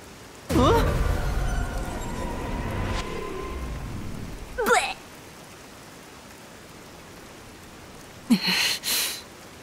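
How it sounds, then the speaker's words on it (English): Rain falls steadily as a constant hiss of noise in the video game Master Detective Archives: Rain Code, with voices heard over it at the start and again near the end. "It's raining, man."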